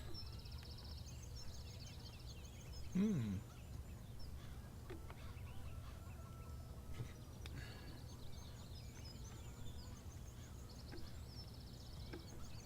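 Chickens on a farm in the video game Farming Simulator 17 cluck with one brief close squawk over a steady low rumble and ambient hum, with scattered fainter clucks in the background.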